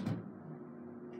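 Otis traction elevator doors sliding shut at a hotel, a soft, close rumbling glide lasting about a second after a brief knock, with a steady motor hum underneath.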